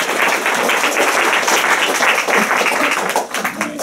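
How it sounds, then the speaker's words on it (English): An audience at an aesthetics symposium claps together in a loud, continuous patter of many hands that thins slightly near the end. "let's give him a round of applause."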